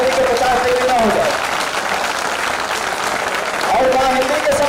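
Loud, continuous applause from the crowd at a Hindi poetry gathering (kavi sammelan), with a voice speaking over it at the start and again near the end.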